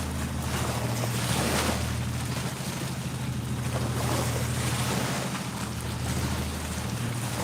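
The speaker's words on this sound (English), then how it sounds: "And waves coming in from that barge." Waves from a passing barge washing against the shore, a steady loud churn of water with wind noise throughout, no talking.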